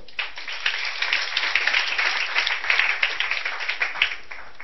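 A church congregation claps together in a brisk, continuous burst of applause, many hands overlapping in a fairly even rhythm with no voices.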